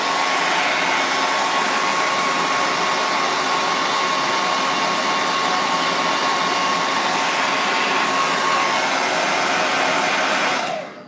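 A hair dryer blows steadily on painted flowers, a loud, constant airy roar and whine that runs nonstop for about eleven seconds before cutting off at the end, with no talking.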